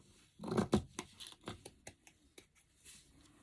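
Scissors snip through damaged, fraying embroidered fabric in a quick series of close, crisp cuts, starting heavier and then spacing out into lighter, quieter snips, alone without talking.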